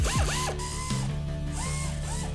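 A mechanical ratchet clicks while tightening bolts on a Monroe Quick Strut assembly during installation on a 2004 Ford Taurus SES, with short bursts of rapid metallic clicks and pauses, close and clear, with no talk.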